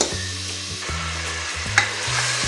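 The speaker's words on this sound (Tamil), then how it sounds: "இஞ்சி பூண்டு பேஸ்ட்டு நல்லா பச்சை வாசனை போயிடணும். 2 நிமிஷம் நல்லா வதங்கணும்." Ginger garlic paste sizzles and fries in a pan while being stirred with steady scraping strokes, close and continuous, with no voices.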